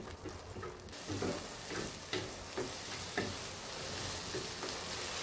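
Scrambled eggs sizzling in a pan are stirred, with a steady soft frying hiss broken by repeated light scraping strokes, quiet and close, with no talking.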